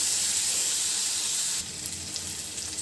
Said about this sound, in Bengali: আলু বরবটি 4 মিনিটের মতো ভেজে নিয়েছি